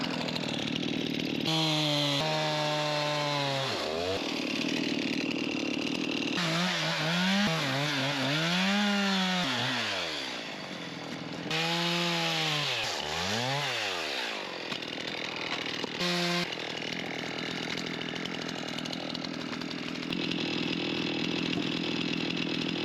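A chainsaw works through firewood in an Alaska winter, its engine rising and falling in pitch as it bogs into cuts and revs free between them, loud and continuous throughout.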